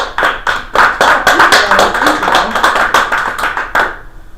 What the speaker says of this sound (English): we'll start with applause.